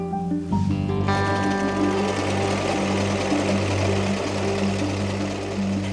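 A sewing machine runs loud and up close while sewing two-colour concert dresses for a duet, its even motor hum and rapid needle rattle droning steadily throughout.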